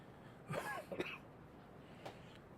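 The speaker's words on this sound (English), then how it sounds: "Pardon the cough there, folks." A single throaty cough burst, then a short second one, followed by a faint click and quiet background hiss.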